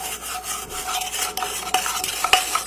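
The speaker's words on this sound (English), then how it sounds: "Just make sure you're grinding it into the side of the pot." Cuban coffee being beaten and ground against the side of a pot, a fast, continuous scraping and rasping of a spoon with irregular clinks, close and fairly loud.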